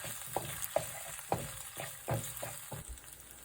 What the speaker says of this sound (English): Cook and stir until the oil turns red.